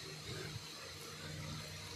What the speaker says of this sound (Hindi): तो सबसे पहले इसके अंदर डालें जी पानी।